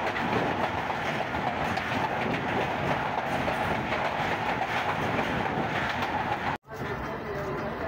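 Thal Express passenger train running along weak track at speed, a steady loud rumble of wheels and wagons with clickety-clack texture and wind buffeting, briefly cutting out near the end.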